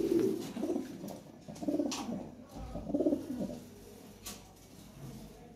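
Red Lahori pigeons, a breeding pair in a loft, give soft throaty coos in several low rolling bursts, close by and fairly quiet, with faint rustles between calls and no talking.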